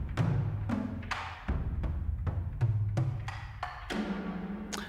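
Tycho drums from the Heavyocity Damage 2 sample library, a rapid sequence of about ten deep, booming hits with sharp attacks and ringing low tails in an irregular pattern, fairly quiet and alone with no voices.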